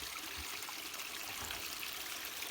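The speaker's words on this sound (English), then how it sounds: "See how clean the water is? It's because that's not runoff, that's spring water." Cold, clear spring-fed creek water flowing steadily, a continuous trickling rush heard close by with no voices.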